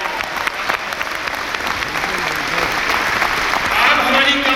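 An audience claps at a company's 25th anniversary program, a dense, loud, sustained round of applause that swells slightly toward the end.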